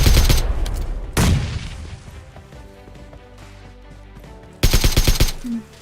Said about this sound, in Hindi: आज आखिरकार बम बबूरा फट ही जाता है